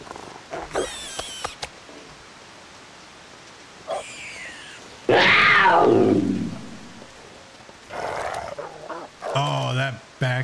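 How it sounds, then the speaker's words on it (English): A wolf in the survival game The Long Dark gives a loud rough growl in the middle, set among scattered game sounds and short bursts of noise, with stretches of near quiet between them. "There's the wolf"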